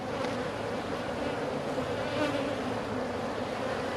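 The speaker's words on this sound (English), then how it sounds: "you see these bees, they're all over her" A crowd of honey bees clustered around an old queen bee buzzes in a thick, continuous drone, close and loud, with no speech.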